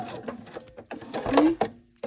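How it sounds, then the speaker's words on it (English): Sewing machine stitching along a fabric fold line on a filigree quilt block, a short whirring run with mechanical clicks and a brief rising whine, close by, with faint sounds between bursts. "we're going to stitch right along this fold line, making sure that your fabric isn't caught underneath"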